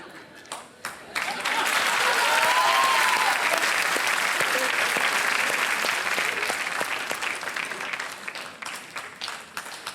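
Studio audience applauding on the TV quiz show Kaun Banega Crorepati, a dense burst of clapping that starts after a moment of talk, holds strongly for several seconds, then thins and fades toward the end.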